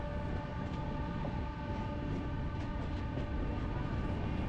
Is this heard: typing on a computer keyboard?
no